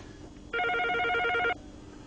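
A telephone bell rings in a single steady electronic trill lasting about a second, clear over quiet room noise.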